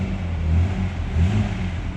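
A Nissan Skyline Hakosuka runs a little rough, its engine a close, steady low rumble with slight rises and falls in revs.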